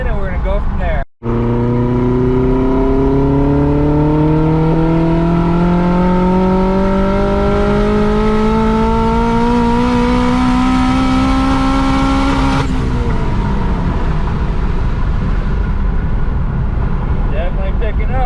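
Built H22 engine in a third-generation Honda Prelude being street tuned, revving loud and sustained with a steadily rising pitch for over ten seconds after a brief cut, then easing off near the end.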